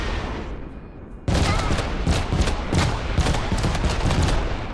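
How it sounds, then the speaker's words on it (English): A carpet bomb attack in a video game erupts abruptly into a dense barrage of loud blasts and rapid-fire explosions, a sustained roaring volley after a quieter lead-in. "This is the carpet bomb."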